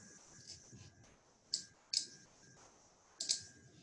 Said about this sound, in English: I'm just going to go ahead and click Save File